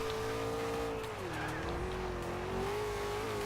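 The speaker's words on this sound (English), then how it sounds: "1970 Dodge Charger. Love how they got the blower on top too." A 1970 Dodge Charger with a blower on top, driven in the Forza Horizon 2 racing game, its engine droning steadily with faint pitch rises and dips as the car moves.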